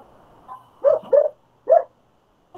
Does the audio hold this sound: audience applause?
no